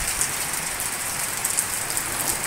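Monsoon rain in the Kurseong hills in July, a steady dense hiss of rainfall with faint droplet patter, even and continuous, heard alone without voices.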